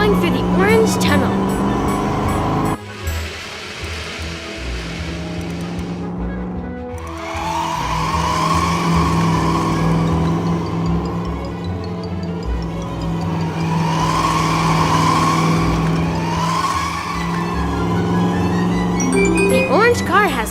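Animated toy race cars roar through an orange tunnel, with engine drones swelling and fading in waves and a few tire squeals, mixed under a narrator's voice throughout.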